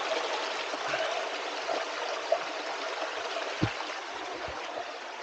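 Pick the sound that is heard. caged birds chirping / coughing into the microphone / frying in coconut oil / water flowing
water flowing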